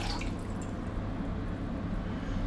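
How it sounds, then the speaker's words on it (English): Two cups of water pour steadily into a cooking pot for vegetable soup, a continuous close liquid splash with no talk. "First we will pour the 2 cups water"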